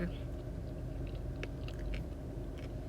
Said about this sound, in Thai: เดี๋ยวมากินทุเรียนต่อ